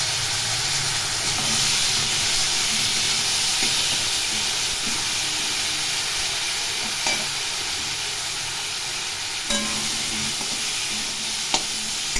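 Spice paste of cumin, turmeric, salt and ground tomato-chili frying in a pan with a little water for Bengali hilsa curry, a steady close sizzle and hiss with occasional stirring scrapes and small pops.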